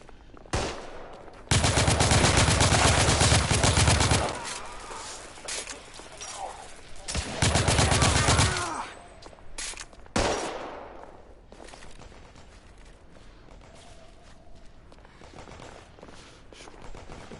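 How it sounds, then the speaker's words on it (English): Bursts of SMG gunfire in The Order 1886, two long, loud sustained volleys of rapid shots, then scattered single blasts and quieter combat noise with a faint voice. "Get some SMG action."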